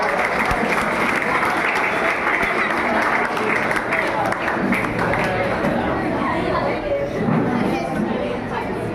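A crowd applauds continuously as guests are invited onto the stage at a Dr. Sarvepalli Radhakrishnan death anniversary gathering, thick steady clapping mixed with background chatter throughout.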